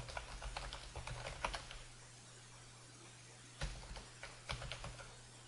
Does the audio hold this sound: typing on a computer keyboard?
yes